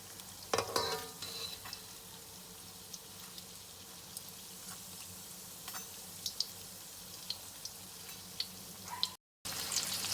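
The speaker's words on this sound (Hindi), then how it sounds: "ये बहुत अच्छे से फ्राई हो चुके हैं, गोल्डन हो चुके हैं।" Potato cheese balls deep-frying in oil, a quiet continuous bubbling sizzle with scattered crackles and a few utensil clicks, heard alone with a brief dropout near the end.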